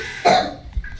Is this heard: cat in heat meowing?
no